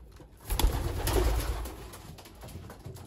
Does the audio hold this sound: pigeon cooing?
yes